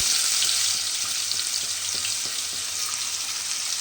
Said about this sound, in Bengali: তেলের মধ্যে মশলাটা দিয়ে কিন্তু খুব ভালোভাবে একটু কষিয়ে নিতে হবে